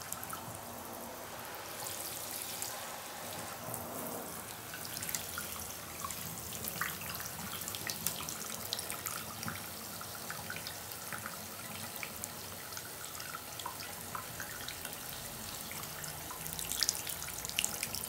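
Shower water spraying onto a dog during a bath, a steady soft hiss of running water with faint splashes and drips, quiet and continuous throughout.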